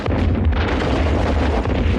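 Bomb blasts boom in a war drama battle scene, a dense, continuous roar of heavy low rumbling explosions that stays loud for the whole stretch.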